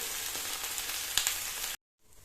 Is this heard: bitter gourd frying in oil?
yes